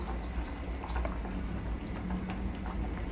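Chicken thighs simmer in sauce, a steady close bubbling and soft popping that runs on evenly without a break.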